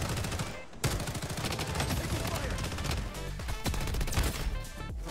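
Rapid automatic MP5 hip fire in the game Bloodstrike, a loud, dense fusillade of gunshots running nearly nonstop, with one brief gap near the start and sharp bursts throughout.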